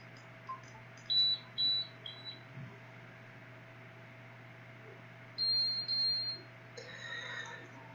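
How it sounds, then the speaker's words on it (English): Short electronic beeps from a motion capture body pack powering on after a USB connection, a pair of high tones early and another pair later, over a steady low electrical hum in a quiet room. "That beep has just signified that the body pack is now connected and is powered on"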